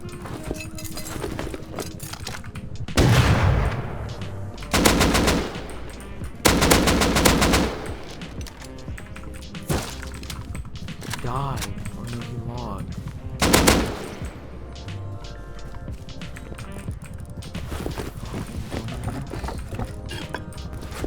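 Rapid automatic AK rifle fire in the Rust survival game during a wipe-day raid defense: loud, close bursts of gunfire break out repeatedly against a busy background of game sounds and clattering hooves, with occasional voices.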